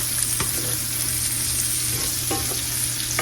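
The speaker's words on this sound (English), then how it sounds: "I'm going to let those cook a little bit before I add my flour" Food for smothered chicken cooking in a pan before flour is added, a steady close sizzle and crackle with occasional light utensil taps, no talk.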